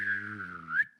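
A single wavering whistle glides down and then back up, imitating a sad R2-D2 robot's beep, close and clear.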